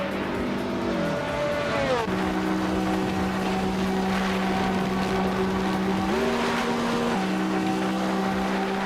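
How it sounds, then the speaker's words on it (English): AI race cars in a video game roar steadily throughout, their engine notes dropping and climbing with gear changes, loud and continuous. "We've got some exciting AI cars racing right now"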